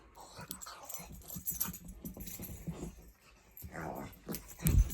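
Drusilla, a dog, whimpers and yips in short, uneven bursts close to the listener, with light panting and a sharper squeal at the end.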